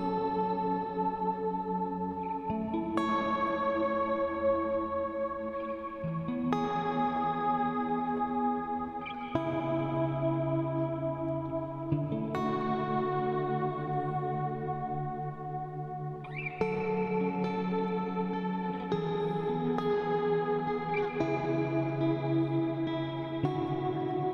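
An electric guitar played through a Strymon Blue Sky reverb pedal with the decay turned up, sustained chords ringing out in long, lush washes that blur into each other, each new strum layered over the fading tail of the last.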